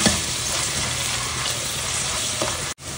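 Onion sautéing in a pan for a Marathi-style kaddu bhaji, a steady dense sizzle and crackle of frying that holds constant for nearly three seconds before a sharp momentary dropout near the end.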